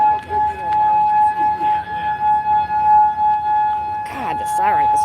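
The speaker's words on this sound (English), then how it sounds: "God, the siren is horrible." A loud outdoor siren holds a steady piercing tone throughout, while people talk nearby beneath it and a brief rising-and-falling wail cuts in near the end.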